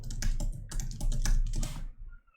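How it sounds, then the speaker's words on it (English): A quick burst of close typing on a computer keyboard, a dense run of keystrokes lasting about two seconds before stopping. "if I type"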